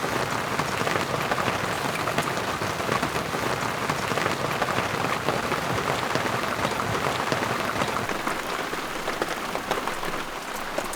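Steady rain patters on a surface at a desert campsite in Nevada. It makes a dense, even hiss that lasts the whole time, with no voices.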